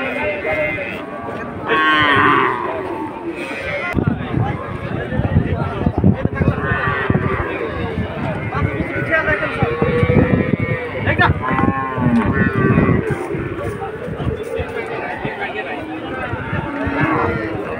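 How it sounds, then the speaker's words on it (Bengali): Many cattle at a large livestock market lowing and mooing repeatedly amid a crowded, noisy background, with someone talking over the herd throughout. "দেখুন প্রচুর গরু।"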